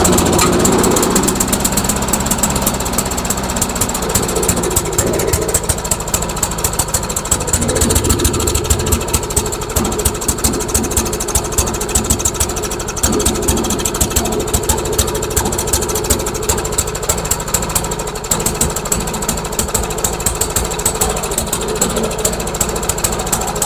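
A run-down, neglected lawn mower engine, held running with vise grips on the bail after a pull start, runs loud and close with a steady, rough, rapid chatter for over twenty seconds and no talk.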